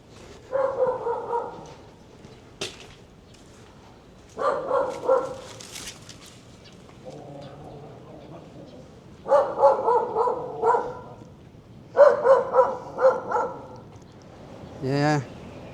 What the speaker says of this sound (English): I need a stick to protect me from the dogs.